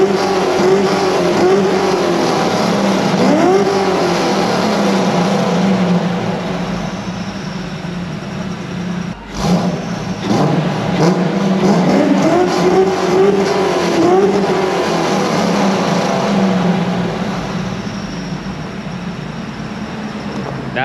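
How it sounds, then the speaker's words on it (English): A V6 Ford Mustang engine revs and roars close by in long rising and falling sweeps, with a brief dip and a sharp knock midway, sustained and loud throughout. "That, my guys, is a V6 Mustang."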